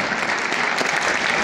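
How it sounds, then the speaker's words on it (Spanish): Steady, dense audience applause for a vocal coach at a televised singing academy show, a bright continuous clapping wash with a faint voice underneath. "quiero pedir un aplauso, por favor, para mi querido Mendy Carrasco"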